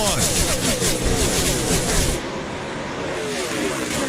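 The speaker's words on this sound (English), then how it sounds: "When at speed, these cars will enter the turns at nearly 180 miles an hour." NASCAR stock cars race at speed on track, a loud continuous engine roar that swells and then eases as cars pass, with a commentator talking over it.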